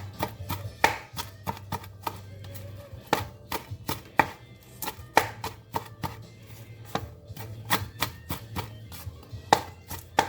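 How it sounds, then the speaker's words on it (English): A knife chops kale finely on a cutting board in quick, irregular bursts of sharp close taps, with a low hum running steadily underneath. "So I'm just going to cut it really fine."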